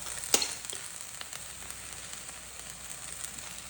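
An egg frying in a pan on a stovetop gives a steady, fairly quiet sizzle with a brief louder crackle near the start, then continuous soft hissing.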